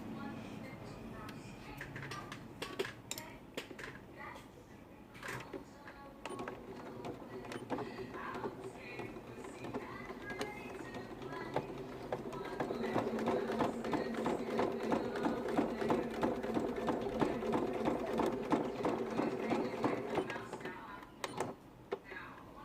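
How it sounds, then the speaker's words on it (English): A sewing machine topstitches a fabric border, its needle running in a fast, rhythmic mechanical patter that grows steadier and busier midway, mixed with a few handling clicks. "I have just top stitched the outside edge of that border. So now we're going to do the inside."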